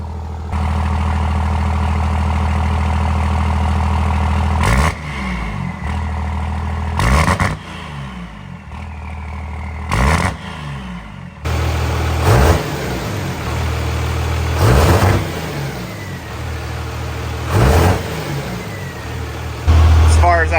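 A 2nd Gen Cummins diesel engine runs just after its first startup with a slight fuel pop, idling steadily and loud up close, rising in several repeated revs, with a voice talking over it at times.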